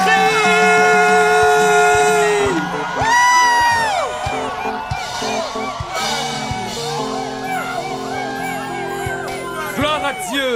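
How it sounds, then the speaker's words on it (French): A church congregation shouts and cheers in worship, with loud overlapping whoops and yells rising and falling, mixed with voices speaking throughout. "Je veux que vous poussiez des cris."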